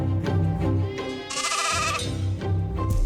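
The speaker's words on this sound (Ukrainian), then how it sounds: "А що вівці? Вівці самі за Миколою пішли." Sheep bleat repeatedly, several wavering, nasal calls close by, one louder, higher cry in the middle, with no voices.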